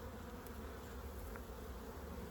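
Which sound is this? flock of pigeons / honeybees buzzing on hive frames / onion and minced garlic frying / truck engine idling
honeybees buzzing on hive frames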